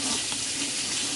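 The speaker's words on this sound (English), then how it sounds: "So I'm just going to rinse these pork chops off." Tap water runs steadily into a kitchen sink as pork chops are rinsed, a close, continuous broadband rush with no pauses and no voices.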